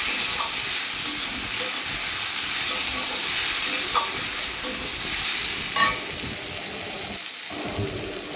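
Steady hissing sizzle of food frying in a pan, with occasional clinks and scrapes of stirring, close and continuous.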